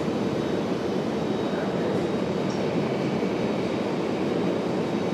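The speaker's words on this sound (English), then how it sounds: "we've got Republic Airways at 4658 coming in from JFK, New York." A Republic Airways Embraer E175LR arriving at Raleigh-Durham from JFK gives a steady, loud, broadband jet roar that holds evenly without a break.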